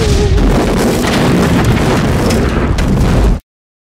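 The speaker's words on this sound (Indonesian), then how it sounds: "Akibat dari ledakan tersebut, Jaka pun terpental ke langit" A grenade blast in a film fight scene is a loud, sustained roaring explosion with crackling debris that rumbles for a few seconds and then cuts off abruptly into silence.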